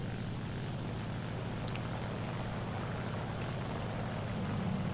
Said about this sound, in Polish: Znowu skręcam moc silnika, żeby nos mi opadł i mogę Mouette'a ostrzelać